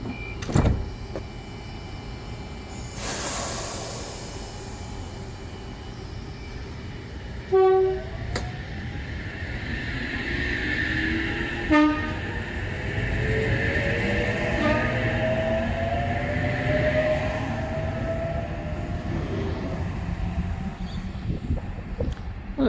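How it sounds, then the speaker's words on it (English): A Sydney Trains H set electric train departs Albion Park station on the South Coast Line, a horn blast sounding near the start, followed by rising motor whine and wheel rumble as it pulls away and fades. "Here we have Oscar set H47 now departing Sydney service."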